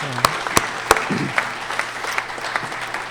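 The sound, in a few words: audience applause at an awards ceremony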